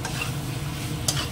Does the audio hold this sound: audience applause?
no